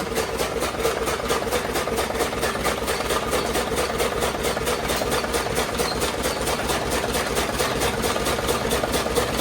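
A stationary engine on a dairy farm runs while water is poured into it, a steady, fast, rhythmic thumping chug, loud and close, continuing evenly with no talk over it.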